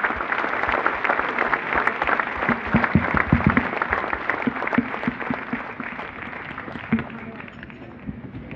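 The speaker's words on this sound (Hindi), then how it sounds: "आइए इन सभी खिलाड़ियों के नाम एक बार जोरदार तालियों से करें" A stadium crowd applauds to welcome a contingent of Indian athletes, a dense wash of clapping that holds steady and slowly thins, with a voice talking faintly underneath.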